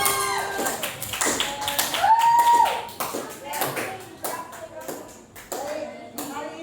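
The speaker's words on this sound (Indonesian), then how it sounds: "tepuk tangan buat kita semua." A class of children claps hands in short irregular bursts, with a teacher's voice talking over and between the claps in a classroom.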